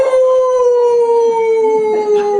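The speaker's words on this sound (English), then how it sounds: "The wolf emits a piercing howl." A piercing wolf howl in a pantomime, one long sustained tone sliding slowly downward, loud and close, heard alone with faint background bumps.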